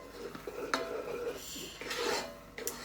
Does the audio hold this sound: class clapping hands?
no